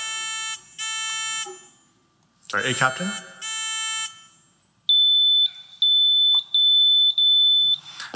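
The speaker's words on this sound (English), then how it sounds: "let's please test our buzzers again from the left side." Quiz competition buzzers are tested at a national science bowl match: several loud buzzes in sequence, then a run of high, steady electronic beeps, with a brief spoken word in between.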